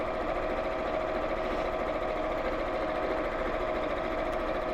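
A sewing machine stitches fabric pieces together indoors, giving a steady, continuous mechanical whir with a fine rapid pulse that runs loud and unbroken, with no talking.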